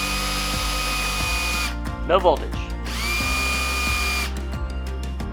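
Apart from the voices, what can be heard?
power drill spinning a vehicle speed sensor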